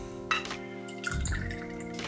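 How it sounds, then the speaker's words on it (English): Port wine poured into a glass for a Bentley cocktail, a short liquid trickle and splash close by, with faint dripping against a steady low background hum. "I poured it into the glass"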